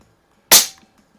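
A single sharp dry-fire shot from a Haenel 28 air rifle fitted with a silencer, a close, short crack-like burst with a quick tail, then silence.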